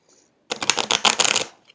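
Stiff Divine Doors oracle cards get a quick riffle shuffle, one dense papery burst of rapid flutters lasting about a second, close and fairly loud.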